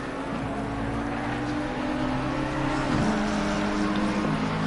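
A McLaren GT3 race car in a sim racing game at Suzuka, engine droning steadily with harmonic tones shifting as it revs through gears and rides the curbs, continuous and fairly loud with no talk.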